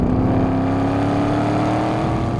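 A 2014 Chevrolet Camaro Z28 accelerating hard on a race track, heard from inside as a loud, steady engine roar with a rising tone, no talking.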